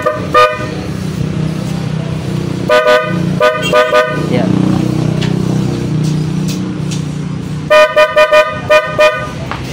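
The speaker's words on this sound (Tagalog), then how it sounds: "Pag ibusina natin sa loud horn." An aftermarket PIAA loud horn fitted to a Honda ADV 160 scooter blasts in short bursts: one toot, then a cluster of quick honks, later another run of several, over the idling engine with someone speaking between.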